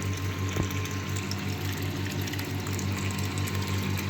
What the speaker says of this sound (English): As you can see, we have the overflow pipe, water coming from the overflow pipe.